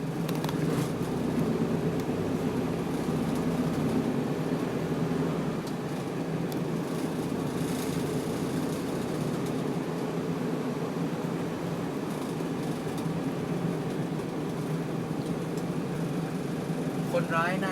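An Isuzu TFR pickup truck with a slightly stiff first gear drives along, its engine a steady low drone with road and wind noise, constant throughout, while someone speaks over it.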